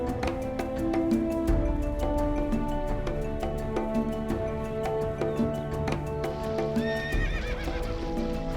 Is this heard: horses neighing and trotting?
yes